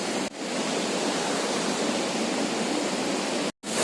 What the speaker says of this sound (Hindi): झरना के पास आ गए हम लोग, देख सकते हैं। बहुत ऊपर से गिर रहा है